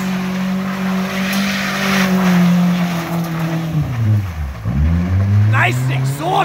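A Toyota Camry engine with a broken exhaust revs loudly and continuously, its pitch dipping sharply and climbing again near the end, close and dominant throughout.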